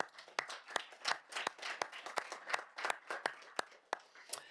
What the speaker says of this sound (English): give a round of applause for the Premier.